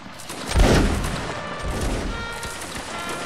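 Musket volleys in Mount & Blade: Napoleonic Wars, a loud burst of overlapping gunfire early on, then scattered shots and battlefield rumble continuing at a distance.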